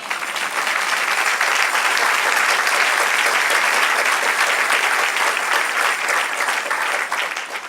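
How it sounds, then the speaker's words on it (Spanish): A church congregation claps for the Lord during a sermon, a full, sustained wash of applause that holds steady for several seconds before tapering off. "Denle otro aplauso al Señor."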